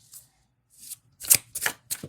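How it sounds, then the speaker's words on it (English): Tarot cards shuffled by hand in several short, crisp riffling bursts, close and clear, with quiet pauses between them and no talking. "Let's give it one more shuffle."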